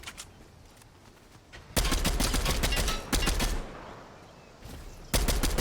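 Bursts of rapid automatic gunfire in Fortnite Zero Build, loud and close, coming in three volleys separated by brief lulls, with no talking over them.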